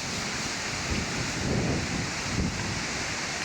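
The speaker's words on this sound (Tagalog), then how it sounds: "Tapos malakas yung hangin dito sa lugar." Steady strong wind blowing across a coconut plantation, a continuous broadband roar with gusty swells and buffeting on the microphone, no voices.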